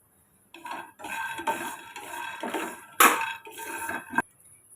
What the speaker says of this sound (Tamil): எள் எடுத்த அளவுக்கு நான் வேர்க்கடலை எடுத்திருக்கேன் இதை இப்போ நம்ம வறுத்து எடுத்துக்கிடுவோம்